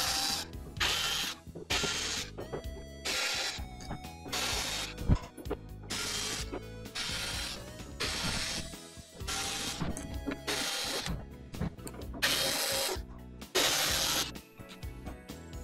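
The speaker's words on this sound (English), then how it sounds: "now we have to get these bottom screws off" Screws being removed from the bottom panel of a Creality CR-10S Pro 3D printer, with rapid ratcheting bursts from a screwdriver repeated many times, close and loud, separated by brief clicks and pauses.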